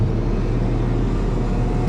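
A 2017 Ford Fiesta 1.0 EcoBoost SCTi engine lugs at about 1,500 rpm in fifth gear at 60, giving a steady, low, droning hum heard from inside the cabin with no talk.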